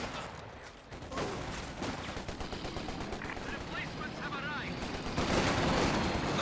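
Infantry support gun and small-arms fire in a Company of Heroes 2 multiplayer battle, dense crackling gunfire with bursts and booming shots building toward the end.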